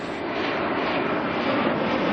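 A Jetstar jet airliner arrives at Auckland Airport from Dunedin, a steady, fairly loud rushing engine roar that holds even for a couple of seconds with no voices.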